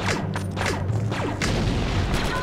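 A grenade blast in the Star Wars Republic Commando shooter, one dull booming thud over a continuous rumbling game soundscape, with lesser thumps following, and no speech.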